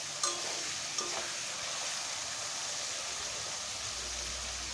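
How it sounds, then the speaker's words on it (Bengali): Chicken meat frying in oil with onion and garlic, a continuous dense sizzle close up with a couple of brief scraping knocks early on, no voices. "মাংস দিয়ে এবার ভালো করে আমি একটু ভাজবো।"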